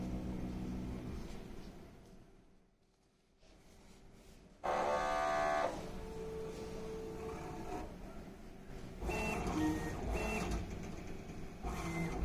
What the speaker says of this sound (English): And we check nozzle again.